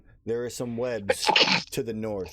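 A single short, sharp sneeze bursts out midway through a tabletop Dungeons & Dragons session, sandwiched between stretches of a person talking.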